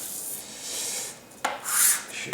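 Sandpaper rubbing over an acrylic brush handle, a steady close rasp with brief sharp scratches and a louder swell of gritty friction, heard alone without speech.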